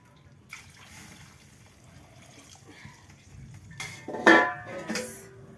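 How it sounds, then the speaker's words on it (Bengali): Water is poured into a pot of duck curry, a short splashing burst near the end after quieter trickling and light clinks. "একটু জল দিই।"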